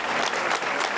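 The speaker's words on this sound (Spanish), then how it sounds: "ha habido una ovación al finalizar la misa" Mourners at the end of a funeral mass give a sustained ovation, a thick, continuous burst of clapping from a large crowd, loud and even throughout.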